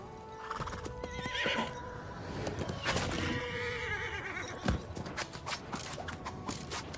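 A horse in a video game neighing and whinnying while its hooves clip-clop, with layered game effects and a sharp thud near the middle, fairly close and busy, no speech.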